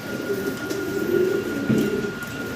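Fancy pigeons, a new adult pair for sale, coo in low repeated murmurs close by over a steady hum.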